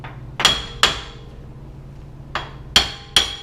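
A hammer taps lightly on a Jeep Wrangler JK hub bearing seated in the steering knuckle, giving five sharp metallic knocks close by in two uneven pairs plus a single strike, each ringing briefly.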